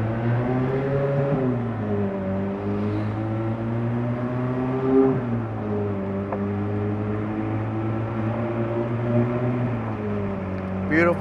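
A 2005 Ferrari F430 Spyder pulls away in first gear, its engine note climbing steadily with shifts and a strong, continuous near roar lasting throughout, with a voice talking over it.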